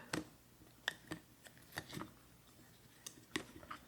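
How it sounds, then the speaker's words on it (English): Quiet, scattered clicks and clacks of small hard tiles from the game A Gentle Rain being shuffled and knocked together at close range, irregular and soft. "one more round of shuffling."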